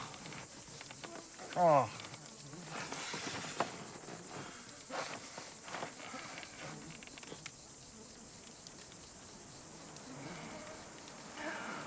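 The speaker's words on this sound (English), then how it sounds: "can just hear the mosquitoes are buzzing and they're echoing" Mosquitoes buzz and echo inside a canoe, a thin continuous whine with a hollow resonance, broken by a brief exclamation and some bumps.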